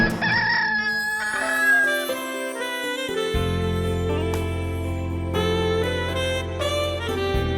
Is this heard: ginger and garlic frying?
no